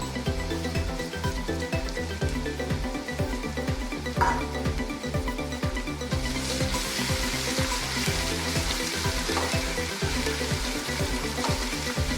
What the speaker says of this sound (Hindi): थोड़ा सा इसमें अदरक लहसुन अभी डाल देते हैं ताकि ये भी साथ फ्राई हो जाए।